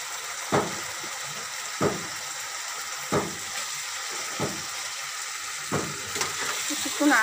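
Potatoes being stirred into a prawn poppy-seed curry frying in a pan: a low background sizzle punctuated by about six evenly spaced spoon knocks and scrapes, close and fairly quiet.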